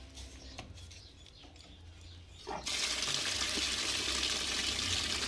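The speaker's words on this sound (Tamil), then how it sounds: "கிழங்கு நல்லா கழுவி எடுத்துக்குவோம் நம்ம கிழங்கெல்லாம் இப்போ வந்து நல்லா கழுவி மண்ணெல்லாம் கழுவி எடுத்துக்கலாம்" Sweet potatoes being washed of soil in water, a sudden loud, continuous rush of running water beginning partway through after quieter handling and faint background birdsong.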